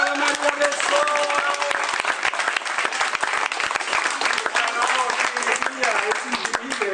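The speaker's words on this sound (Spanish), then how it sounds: "Un aplauso para María del Sol." An audience claps loudly and continuously for several seconds, a dense wash of applause with a few voices carried within it.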